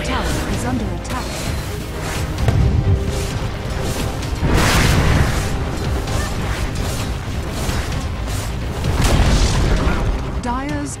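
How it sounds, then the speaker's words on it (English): Dota 2 match audio as the Dire's top tower is destroyed, with several deep booming explosion hits and crashes spread across a busy stretch of game effects and combat noise. "Dire's top tower has fallen."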